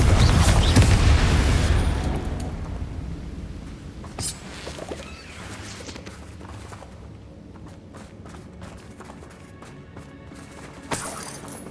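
A Confringo fire spell detonates in Hogwarts Legacy with a loud, booming blast at the start, followed by a rumbling, crackling decay and scattered combat clatter, footsteps and smaller impacts.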